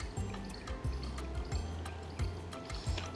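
Water poured in a thin trickle into a kulcha dough mixture in an Amritsar kitchen, with soft splashing drips and low, rhythmic thumps of the dough being mixed and bound by hand.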